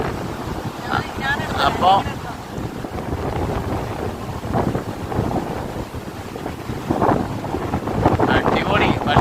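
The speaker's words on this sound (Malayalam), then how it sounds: "പക്ഷെ ഭയങ്കര കാറ്റാട്ടാ, കാറ്റ് സഹിക്കാൻ പറ്റുന്നില്ല." Strong wind buffets the microphone on Mattool beach, a constant low roar with gusts swelling near the end, under people talking throughout.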